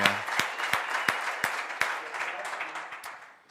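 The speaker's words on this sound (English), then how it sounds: "Can we give him one more round of applause?" Applause from a church congregation at a Sunday service, many hands clapping in a dense, loud wash with sharper individual claps punctuating it, gradually tapering off toward the end.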